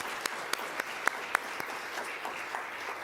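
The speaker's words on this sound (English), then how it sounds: "So I would like us to please give a round of applause for our panel tonight" Audience applause for a panel at an evening parent education session, a steady patter of many hands with a few sharper individual claps standing out near the front, moderately loud and continuous throughout.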